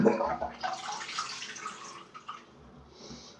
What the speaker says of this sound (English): then I need to run the tap to get some hot water